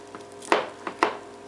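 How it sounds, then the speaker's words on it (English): Two soft squishy thuds as a ripe banana is mashed into a measuring cup for banana cake, close and fairly quiet, with a smaller press between them. "just take the banana and mash it into a measuring cup"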